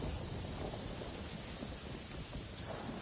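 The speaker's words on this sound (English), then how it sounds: "The storm is pretty bad by the sounds of it." A thunderstorm rages in Avatar Frontiers of Pandora, heavy rain pouring in a dense, loud roar while deep thunder rumbles beneath it, continuous and enveloping with no talking.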